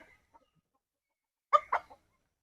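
Chickens, hens kept with four roosters, give a few short clucks, one brief call and then two close quick ones, against an otherwise quiet background.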